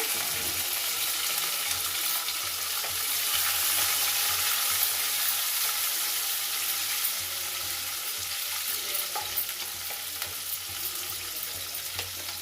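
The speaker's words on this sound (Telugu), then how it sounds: "ఉల్లిగడ్డ తరుక్కున్నాను కదా అది వేస్తున్నాను" Chopped onion frying in a pan for a ridge gourd curry, a steady broadband sizzle that stays loud and continuous throughout, with faint occasional scraping of stirring and no talking.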